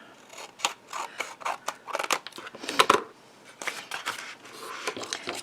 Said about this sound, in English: I think I might trim a little of this off.